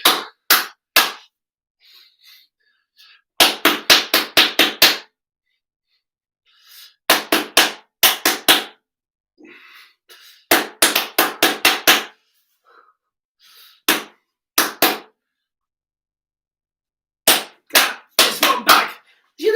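Year 2 pupils in a music lesson clap back short rhythms in bursts of sharp, crisp claps, groups of quick beats separated by silent gaps, with brief faint talk between phrases.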